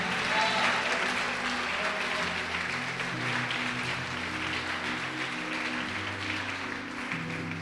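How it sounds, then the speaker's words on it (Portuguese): Church congregation applauding steadily throughout, a dense, continuous wash of clapping with some music or voices faintly underneath. "Pode aplaudir o Senhor Jesus e glorificar."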